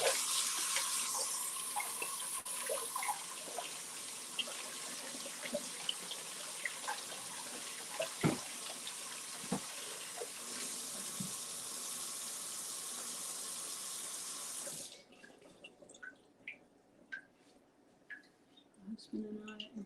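A kitchen tap runs steadily into a sink during Thanksgiving meal prep while hands are washed, with a continuous gushing stream that stops abruptly near the end, leaving a quieter room with faint clinks and a voice talking.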